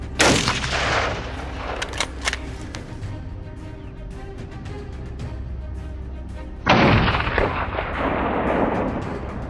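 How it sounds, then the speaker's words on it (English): A long-range rifle shot at a wild boar on a mountainside cracks out loudly at the start with a rolling echo, and a second sharp report follows later, each decaying over several seconds. "Even though the distance wasn't ideal, I decided to take a chance with a long-range shot."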